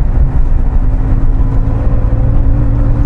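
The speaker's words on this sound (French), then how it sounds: "Moteur 3 litres. On entend bien." A 1981 Porsche 911 SC with a 3-litre air-cooled engine drones steadily and loudly while driving, a dense continuous engine and road rumble heard from inside the car.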